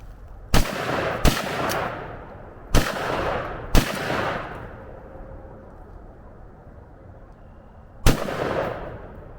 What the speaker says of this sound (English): hey, I bet I can bump fire this